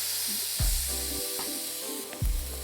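Beef fillet searing in a preheated pan for beef Wellington: a steady, close sizzle, with a couple of sharper bursts as the meat is rolled and turned.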